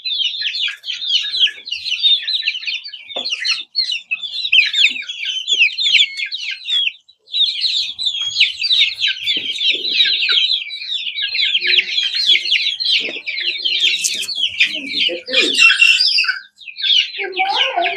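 A flock of about thirty young chickens clucks and squawks continuously and close by, with busy overlapping calls and occasional louder squawks filling the whole stretch.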